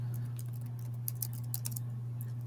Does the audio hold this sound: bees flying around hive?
no